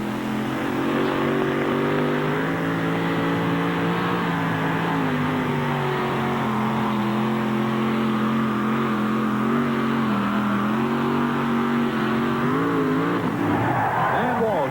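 A big green 1986 Ford two-wheel-drive pulling truck roars down the track at a truck pull in Tomah, Wisconsin, its engine a loud, sustained, slightly wavering drone that climbs toward the end, with an announcer talking over it.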